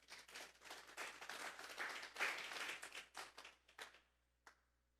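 A church congregation claps for the Lord, a faint, distant patter of many hands that swells, then thins out, ending with a lone late clap.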